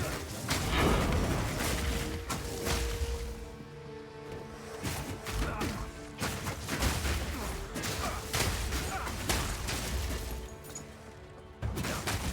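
Loud explosions from the action game Path of Exile 2 burst one after another in a dense, continuous barrage of booms and crashes over a thick roar, with no break across the stretch.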